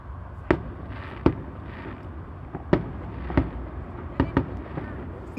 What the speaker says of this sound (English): These were the fireworks from the grandstand at the state fair this year.